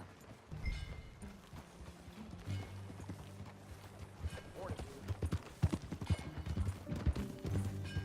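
Rhythmic horse hoofbeats clip-clop at a steady trot in Red Dead Redemption 2, beneath a bed of music and background game sounds, moderately loud and close.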